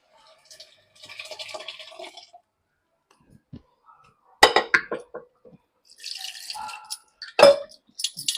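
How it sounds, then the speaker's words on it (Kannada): Water goes into a pressure cooker of vegetable sambar in short bursts, with splashing pours, separate drips and a couple of sharp clanks from the vessel in between quiet pauses. "ಕುಕ್ಕರಿಗೆ ಸ್ವಲ್ಪ ನೀರು"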